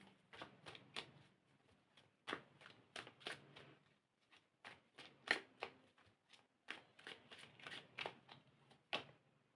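Tarot cards being handled and drawn from a deck: a quick series of crisp, close paper snaps and flicks in an irregular rhythm, heard alone with short quiet gaps.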